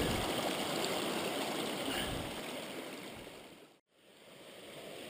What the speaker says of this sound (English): I'm washing the stone off, chucking it, even feeding it in by hand